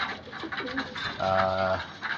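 A racing pigeon coos softly nearby, a low burbling call repeated a couple of times, with a brief human voice in the background.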